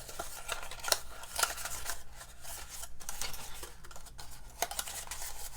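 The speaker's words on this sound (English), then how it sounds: "So I'm just folding it down and pushing it into the bowl." Paper pieces are folded down and pushed into a Valentine's candy bowl, making close, continuous crinkling and rustling with scattered crisp snaps and soft scraping, steady and moderately quiet without speech.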